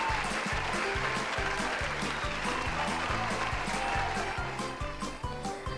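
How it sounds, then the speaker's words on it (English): Audience at a puppet game show clapping in a steady, dense wash of applause that continues throughout, with a rhythmic low thumping underneath. "Audience, please give Library Libby a round of applause."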